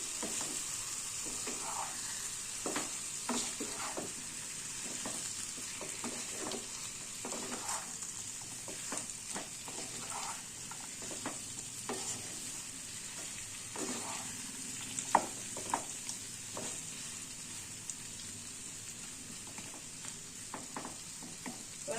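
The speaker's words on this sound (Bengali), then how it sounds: "এই কুমড়ো আর আলুটা" Pumpkin and potato cubes stir-fry in spiced oil over a low flame, a soft, continuous sizzle broken by frequent light taps and scrapes of a spoon against the pan.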